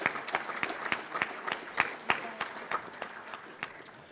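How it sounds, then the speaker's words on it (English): Scattered applause from a touchdown club luncheon crowd greeting its board members, individual claps distinct and rhythmic rather than a dense roar, fairly soft and a little distant. "Let's give these board members a round of applause."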